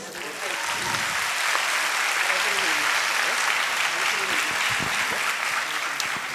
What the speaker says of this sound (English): I want to have a big round of applause for you guys.